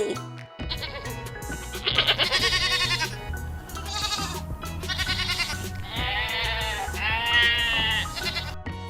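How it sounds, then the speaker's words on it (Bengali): Young goats bleat repeatedly, several wavering cries in a row, close and fairly loud over a low background rumble. "ছয় ছাগল ছানা লাফিয়ে চলে"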